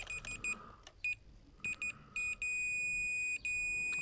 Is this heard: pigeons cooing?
no